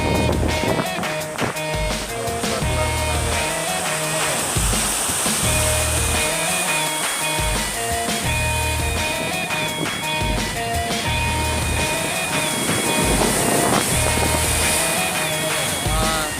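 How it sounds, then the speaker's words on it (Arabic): Atlantic Ocean waves and wind on the coast at Safi, Morocco, make a loud, steady roar that runs unbroken throughout, with a faint tonal hum layered beneath the surf. "هانت البحر النسيم زوين الحمد لله"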